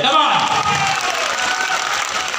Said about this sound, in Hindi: तो पहले इस बात के लिए जोरदार तालियां हो जाए